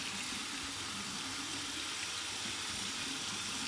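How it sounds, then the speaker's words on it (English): Warm tap water running steadily into a sink for a rinse after a shave, a continuous close hiss and splash with no pauses or voices. "here's my warm water rinse"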